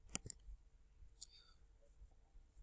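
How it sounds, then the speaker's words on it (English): A mouse click on an Edit button, a couple of faint, sharp clicks in near-silence, with another soft click about a second later. "to click this Edit button"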